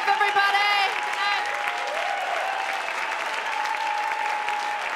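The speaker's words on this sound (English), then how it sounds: "give yourselves a round of applause for being so amazing" Comedy club audience applause, sustained clapping and light cheering from a crowd, with a voice speaking over the start.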